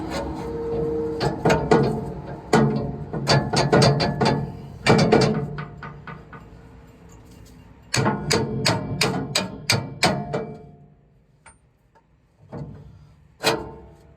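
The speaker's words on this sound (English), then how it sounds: "And then I always take the U-bolts." A mechanic in a welding and repair shop handles steel U-bolts and slides them into place, making a series of close, sharp metallic clunks and knocks in bursts, with brief quiet gaps between.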